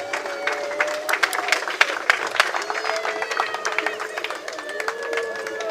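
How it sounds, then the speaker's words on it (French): Applause from a modest crowd, crisp individual claps forming an uneven patter over a low murmur of voices. "Sous nos applaudissements."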